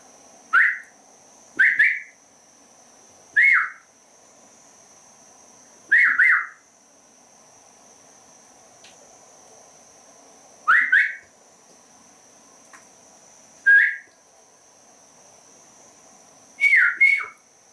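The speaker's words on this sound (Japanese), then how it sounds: "口笛を吹きます。" A person whistling in short, bright bursts, about eight notes spread with long pauses between them, clear and close with no talking.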